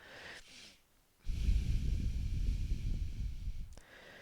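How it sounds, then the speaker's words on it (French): Someone holding a downward dog yoga pose breathes deeply: a short exhale and pause, then one long, loud, rushing breath lasting over two seconds, close and raw with no talking. "Et ici, on va respirer 5 fois."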